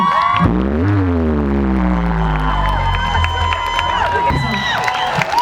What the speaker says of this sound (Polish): Także ogromne brawa wam.